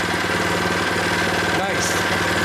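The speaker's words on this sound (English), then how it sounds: "smooth running engine right there, son. That was on full throttle." A Predator 79cc small engine runs steadily at full throttle, loud and close, with a dense, even drone that holds for the whole stretch.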